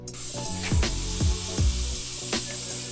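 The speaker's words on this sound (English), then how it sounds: "Just let all the air out this tire." Air hissing out of a Surron electric dirt bike tire, a steady bright spray-like hiss running throughout at close range, with a few descending squeaky tones over it.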